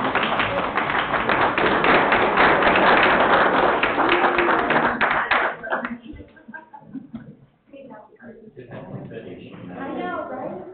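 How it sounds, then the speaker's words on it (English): Loud, dense clapping from an audience at a city council meeting fills the first half, then thins and fades out as people start talking and scattered claps trail off. "I think we should clap."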